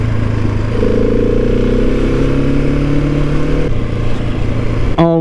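Husqvarna 701 Supermoto motorcycle engine on a ride, a loud steady droning hum with rising tones as it pulls, then a brief clattering burst at the end, with no voices.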